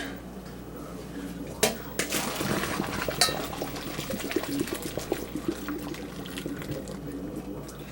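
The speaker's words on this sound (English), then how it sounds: "my noodles are finished, and we're just going to drain them really quick" Cooked noodles for a beef stew are poured out to drain, a soft watery rush with a few sharp clanks of a pot and colander near the start, fairly close.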